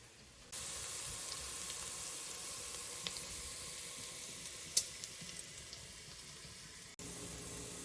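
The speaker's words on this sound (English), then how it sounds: "And you are cooking this until the onion and the bacon starts to brown" Diced bacon and onion sizzle in a frying pan with a steady, bright, hissing crackle that runs for several seconds. A few small pops stand out, and the sizzle stops briefly near the end.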